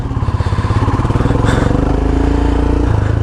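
A motorcycle engine idles and revs loudly up close in a steady, throbbing pulse, with a brief rise in pitch midway, at a meetup point before the first ride of the season.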